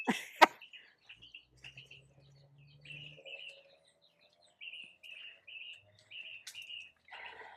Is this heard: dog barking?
no